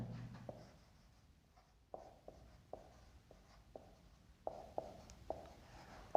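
Pen strokes writing out a physics formula on paper or a board, a series of short, faint scratchy taps in a quiet room.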